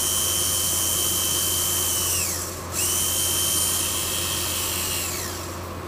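A servo motor rigged as a small string winch whirs loudly and close. Its high whine dips and falls away briefly, then spins back up steadily and slowly winds down in pitch at the end.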